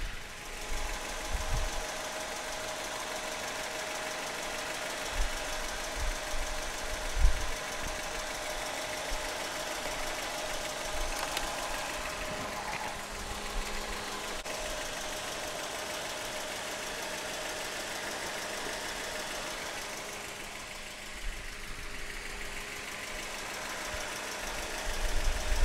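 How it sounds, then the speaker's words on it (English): A car engine idles steadily under the open hood while the battery is removed and reinstalled, a low continuous rumble with occasional knocks and clanks from handling the battery nearby. "what would happen if this engine, while it's running, we swap the battery"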